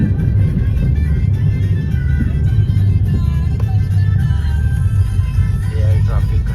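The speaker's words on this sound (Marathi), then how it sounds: "हे आहे ट्रॅफिक खंडाळा घाटातलं" Traffic jammed on the Khandala ghat road, with a steady low rumble of idling and creeping cars close by and loud throughout, plus a faint brief rise of an engine.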